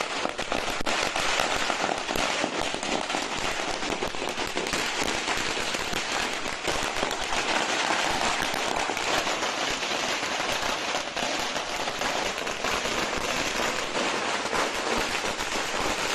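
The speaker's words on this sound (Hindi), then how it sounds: "आप देख पा रहे हैं किस तरह से पटाखे फोड़े जा रहे हैं" Firecrackers set off by celebrating Shiv Sena supporters at a street gathering crackle in a dense, continuous barrage of rapid pops, loud and unbroken throughout like heavy rain on a roof, with no clear voices over it.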